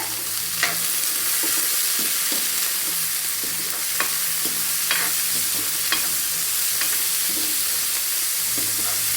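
Green chili, ginger and garlic sautéing in a pan for a Kerala-style masala dosa filling: a steady broadband sizzle with frequent sharp scrapes and taps of a spoon stirring against the pan, close and continuous, with no talking.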